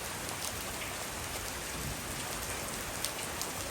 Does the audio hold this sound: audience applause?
no